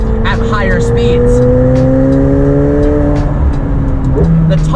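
A 2019 McLaren 720S Spider accelerating hard at speed, engine note climbing steadily through a gear, dropping at the shift and pulling again, loud and close.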